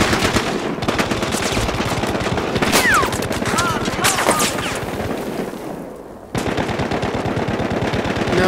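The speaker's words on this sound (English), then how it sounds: "Heavy ass fire," Heavy, sustained automatic gunfire from a Battlefield Hardline shootout, dense rapid bursts at close range that briefly drop out near the end before resuming, with a player's voice over parts of it.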